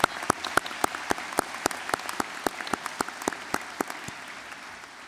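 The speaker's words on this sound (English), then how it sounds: "Congratulations to all of our recipients. Yeah, sure. Round of applause." Sparse applause from a commencement audience at a university winter graduation ceremony, individual claps spaced and fairly steady, moderately close in a large hall with no voices over it.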